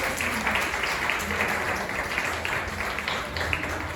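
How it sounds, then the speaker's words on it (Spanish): A church congregation applauds loudly and steadily at an afternoon Spanish-language service, the dense clapping continuing without a break for several seconds. "Dale un fuerte aplauso al Señor Jesucristo en esta tarde."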